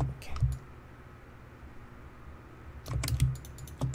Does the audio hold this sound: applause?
no